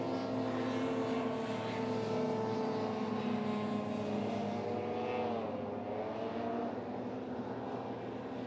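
An F1-class racing hovercraft roars past at a Rother Valley race meeting, a loud sustained engine and fan drone that holds steady for several seconds, then its pitch sweeps downward as it moves away.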